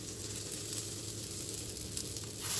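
A thalipeeth flatbread made from bhajani flour sizzles steadily in an oiled pan as it is laid in, a soft, even hiss that swells slightly at the very end.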